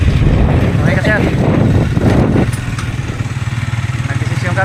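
Motorcycle ride on the way down from Mt Mariglem in Zambales, a loud steady engine hum mixed with heavy wind buffeting the microphone, with someone talking over it early on.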